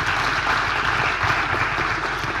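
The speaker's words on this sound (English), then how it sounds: "another round of applause for our winners today" Steady applause from a studio audience cheering award winners at a live TV program on raising pigs, a dense continuous patter of clapping throughout with no break.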